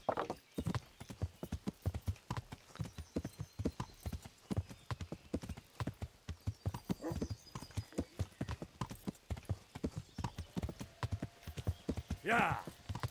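A horse carries its rider over a bridge in Kingdom Come: Deliverance. The hooves clip-clop in a steady, close rhythm throughout, with a brief whinny-like sound near the end.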